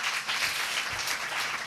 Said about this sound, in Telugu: చప్పట్లు కొట్టండి ప్రభునామములో.